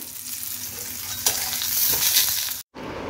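A slice of eggplant fries in a pan with a loud, continuous close sizzle and crackle, broken by a brief silent cut near the end before the sizzling resumes.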